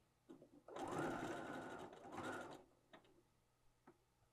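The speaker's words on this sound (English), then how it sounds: "I'm sewing about 1/4 inch from the neckline seam" Sewing machine understitching a garment neckline about a quarter inch from the seam, with the seam allowance pressed toward the lining, running in two steady bursts of whirring stitches with a few light clicks after.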